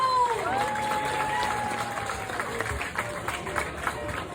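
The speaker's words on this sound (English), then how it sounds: "Let's give a big round of applause for Sammy Jo" An audience applauds a contestant at a pinup contest, steady clapping with some cheering from the crowd, moderately loud, mixed with a brief voice and light background hum.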